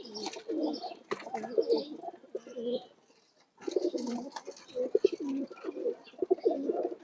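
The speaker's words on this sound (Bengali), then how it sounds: "এখানে কবুতর অল্প আছে।" Pigeons cooing in a loft of high-flying racing birds, a steady chorus of soft throaty coos and rustling with a brief lull midway, close and moderately loud.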